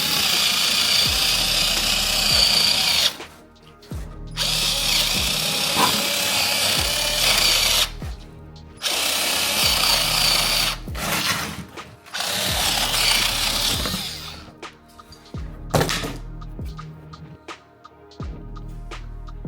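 A small Ryobi USB Lithium 4V battery rotary cutter slices through roofing material, its motor buzzing in several bursts of a few seconds each with short pauses and clicks between, close and fairly loud.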